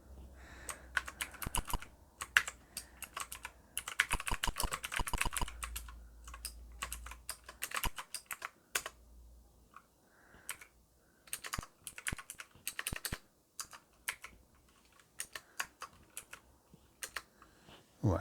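Typing on The400 Mini, a miniaturised Atari 8-bit style computer keyboard, with quick clusters of close key clicks broken by short pauses, no talk.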